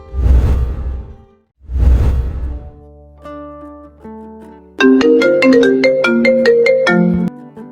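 A mobile phone ringtone plays a bright, repeating electronic melody, loud and close, after two whooshing swells, in an animated drama scene.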